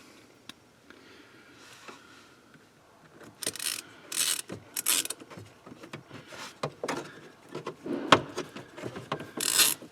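A screw driven into the last fastening point under a Jeep Liberty's steering column trim, near ratcheting clicks and plastic creaks in uneven bursts that grow busier toward the end, with no voices.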